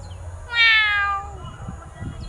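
A person imitates a happy cat with one bright, rising meow lasting about half a second, up close and loud over a quiet room.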